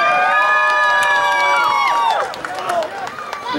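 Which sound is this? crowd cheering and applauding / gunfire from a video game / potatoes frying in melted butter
crowd cheering and applauding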